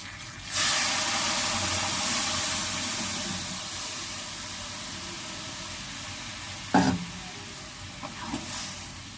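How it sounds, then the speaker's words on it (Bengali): Dal poured into a hot pan for a Bengali dish of kochur loti with dal and fried brinjal, giving a broad steady sizzle that starts abruptly, holds and slowly eases, with a brief clatter of utensils near the end. "এবার ডালটাকে ঢেলে দেব।"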